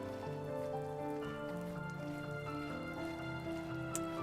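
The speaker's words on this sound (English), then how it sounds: "Just the rain, too, is really good." Soft rain falls in the video game The First Tree, a faint, steady patter set beneath layered, sustained ambient music tones.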